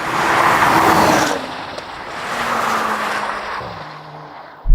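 BMW X3, Porsche Macan GTS and Mercedes GLC 43 accelerating hard from a launch, a loud broad engine and road roar that swells, eases, then builds again with rising engine tones, ending in a sharp close thump.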